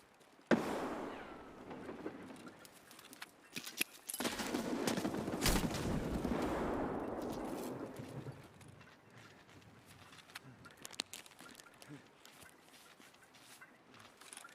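Bursts of gunfire shot through a wall in the Escape from Tarkov shooter game, with a sharp onset and then sustained rattling volleys, followed by scattered quieter impacts and clatter.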